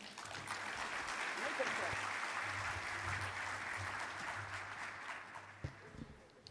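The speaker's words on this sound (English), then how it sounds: "Please give a round of applause for Ms. Bean." Steady applause from an audience at an industry forecast briefing, a broad even wash of clapping held for several seconds at a fair distance, fairly faint, with no talk over it.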